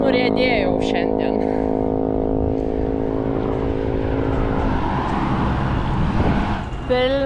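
Heavy trucks rumble along a Malaysian road, a loud, steady engine drone with tonal whine that swells and fades as vehicles pass close by, with a voice briefly audible at the start.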